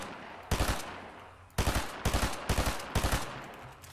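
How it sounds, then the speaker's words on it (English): Bursts of automatic gunfire in Fortnite, five loud rapid volleys separated by short pauses, sharp and close. "They're getting shot at."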